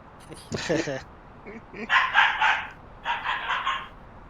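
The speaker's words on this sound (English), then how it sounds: "Sounds like a Jack Russell." Barking from a poodle and cocker spaniel cross: a few short yips, then two bursts of barks, mid-distance, with people talking faintly in the background.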